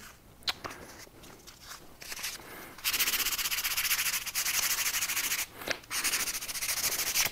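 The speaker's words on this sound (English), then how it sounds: "Now notice I'm sanding the edge too." 400-grit sandpaper rubbing back and forth on a surface and its edge in close, steady strokes, broken by a few short pauses.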